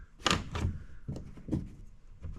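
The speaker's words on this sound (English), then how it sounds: "and then you just shut the door" A small door on a NuCanoe canoe's foot-steering mount is shut during the install, giving a few dull thunks and knocks close by, fairly quiet, with no voice.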